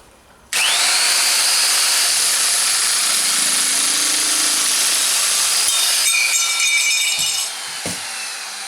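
A Makita JS3200 shear cuts 2.5 mm stainless steel sheet, right at its limit. It starts abruptly with a loud, sustained high-pitched whine and grinding rasp, then winds down into a few clicks and knocks.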